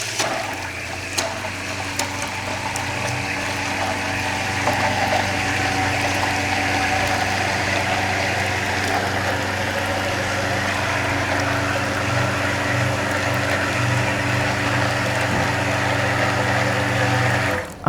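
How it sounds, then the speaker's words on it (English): A blender whirs steadily as soy milk is poured into plant-based ramen broth, a loud continuous motor drone with liquid churning that holds for many seconds before cutting off. "I'm gonna kind of blend while I pour this in because the soy milk has so much protein"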